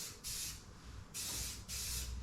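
An aerosol spray paint can hisses onto a panel of a 1995 Chevrolet Silverado pickup in three close, steady bursts separated by short pauses.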